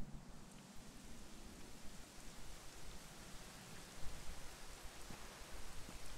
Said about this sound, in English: You know, it was raining like this the last time I ever saw her.